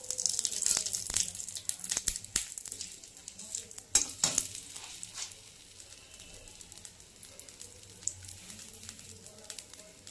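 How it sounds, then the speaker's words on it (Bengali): Two bay leaves and a dried red chilli sizzle in hot oil for shukto, a bright, hissing fry with scattered crackles that is louder at first, then eases into a softer, continuous sizzle. "2টো তেজপাতা দেব আর 1টা শুকনো লঙ্কা দেব।"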